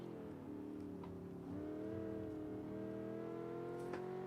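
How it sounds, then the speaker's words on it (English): A car with a large pushrod engine carrying more cylinders than usual, in the driving game Automation: a steady low engine drone with layered harmonics that rises slightly in pitch partway through, quiet and continuous with no talking. "You can hear, like, it's got quite a large pushrod engine."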